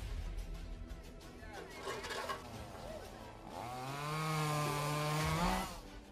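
Chainsaw cutting fallen trees during cleanup after a hurricane in a Florida neighborhood, its engine revving up and holding a loud, rising whine over the last few seconds, with voices and background noise beforehand.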